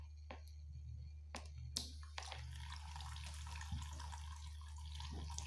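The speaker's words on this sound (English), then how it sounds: "I have made a tabletop fountain." A small tabletop fountain runs on a simple submersible pump, water trickling and splashing softly and continuously at close range, with a low pump hum and a few clicks near the start.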